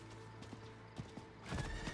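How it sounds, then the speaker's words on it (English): A horse mount in the video game Diablo 4 gives a few soft hoof clops, then a short whinny near the end, all faint against a steady game background. "That's a horse, that is."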